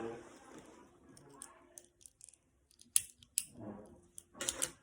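Scissors snip bead bracelet cord in a few short, sharp cuts, heard close and quiet between stretches of someone talking.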